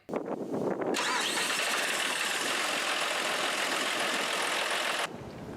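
A John Deere 5075E tractor engine, one that had been running rough and surging, cranks briefly and catches, then runs at a loud, steady, even idle close by for several seconds before cutting down.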